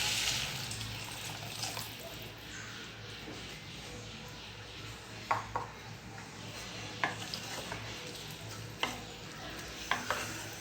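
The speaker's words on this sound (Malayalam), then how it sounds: "വെള്ളം ഒഴിച്ചു കൊടുക്കാം." Water poured into a hot pan of broad beans simmers with a soft, low sizzle while a utensil stirs, leaving sharp scraping taps every second or two; quiet overall.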